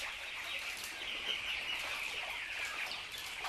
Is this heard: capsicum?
no